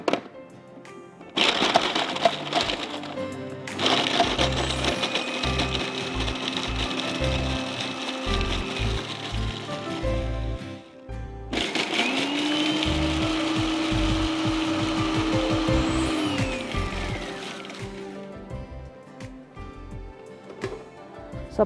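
A food processor whirs loudly in two long runs as it crushes biscuits for date bars, its motor rising in pitch while the crumbs rattle and knock against the bowl.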